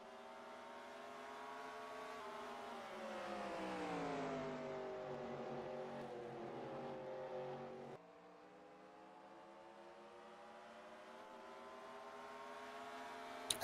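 A race car engine on the oval track at IRP revving steadily and climbing in pitch, then dropping sharply as it shifts gears and building again, heard continuously at moderate distance.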